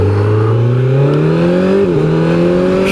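A 2025 Kawasaki Z900, a 125-horsepower four-cylinder motorcycle, revs loud and close, its engine note climbing steadily with a brief dip near the end as if shifting.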